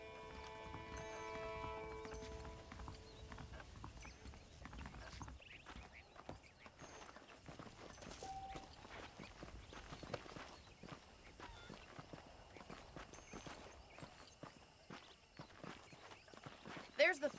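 Horse hooves clip-clopping at a walk in the Red Dead Redemption video game, a steady soft rhythm of hoofbeats that carries on under game music and a character talking.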